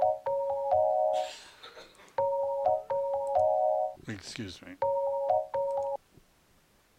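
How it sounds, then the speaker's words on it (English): An incoming phone call ringtone plays in repeated bursts of steady two-tone electronic beeps, loud and close, pausing between rings while a person briefly speaks over a gap. "Incoming phone."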